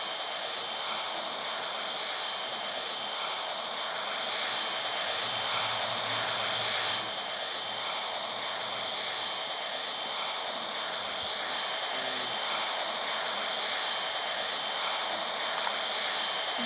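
Steady, loud airplane engine drone in the Flight Simulator 2018 video game, a continuous broadband roar with a sustained whine running throughout, heard just after takeoff with no talk.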